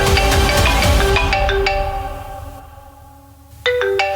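A phone ringtone plays a bright melodic electronic tune for an incoming call, loud and close. It fades to near silence, then a fresh burst of the melody returns, with no talking.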